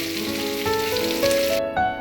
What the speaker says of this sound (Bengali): আলুগুলোকে আস্তে আস্তে ভেজে নেব।